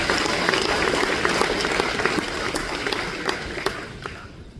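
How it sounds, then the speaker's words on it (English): A crowd at a sprint car racing drivers meeting applauds in a dense, sustained burst of clapping that thins to scattered individual claps near the end. "Give him a round of applause"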